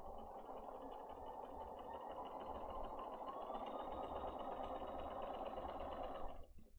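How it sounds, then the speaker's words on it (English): A sewing machine stitches a palm leaf quilt block along a sewing line in one continuous, even whirring run. It is close and fairly quiet, then stops abruptly near the end. "I'm going to put this at my machine, start at the end, and we're going to sew on sew line 2"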